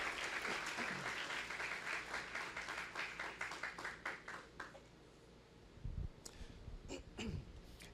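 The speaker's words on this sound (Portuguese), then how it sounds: "Vamos aplaudir Jesus" Church congregation at a Holy Spirit conference applauding, a strong burst of many hands clapping that thins and tapers into scattered claps, followed by breaths and a few stray sounds in a quieter room.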